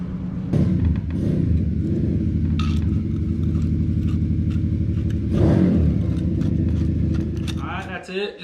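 A 125cc Apollo RFZ DB X-18 dirt bike engine runs close by after a clutch replacement, a steady loud putter with a couple of throttle blips, while someone talks over it.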